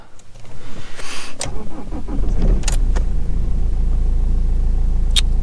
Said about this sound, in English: Starts alright. Bear in mind this car hasn't been started for about 10 days.